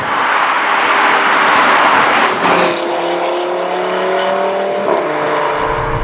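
A 2018 Audi RS3 Sportback with its five-cylinder engine pulls hard on a country road, a loud, steady roar that climbs in pitch, drops briefly at a gear change and climbs again, heard close and without voices.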